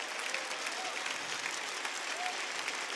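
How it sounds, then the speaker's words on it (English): Steady, fairly faint audience applause at a Rainbow Six Siege operator reveal stream, an even wash of many clapping hands heard at a distance without pause. "Please give a big round of applause to Simon Amelia."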